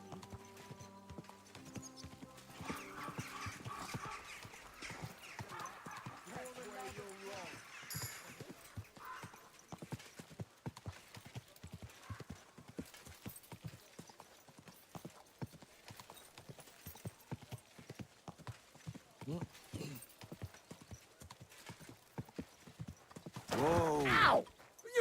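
Horse hooves clip-clop steadily in the medieval game Kingdom Come Deliverance 2, an even run of close hoofbeats through most of the stretch, with a horse whinnying loudly near the end.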